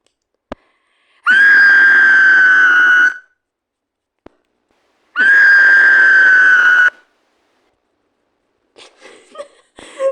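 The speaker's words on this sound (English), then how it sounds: "Should I add some screaming? For this guy?" A dramatic screaming sound effect added in editing blares twice, each loud sustained shriek lasting about two seconds, separated by a short silence with small clicks, followed by faint scattered noises.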